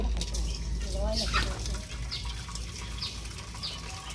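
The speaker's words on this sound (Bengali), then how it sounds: "এখন জলটা ঝরিয়ে নেব।" Water is drained off boiled biryani rice in a kitchen, a steady splashing pour of liquid that runs throughout with a low hum beneath it and faint chirps in the background.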